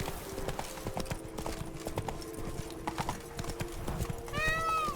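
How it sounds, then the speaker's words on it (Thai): A horse's hooves clip-clop in a steady walking rhythm while being ridden in The Witcher 3: Blood & Wine, close and clear against a faint game ambience, with a brief whinny near the end. "ขี่ม้าตามแกโร่ไปกันดีกว่านะครับผม"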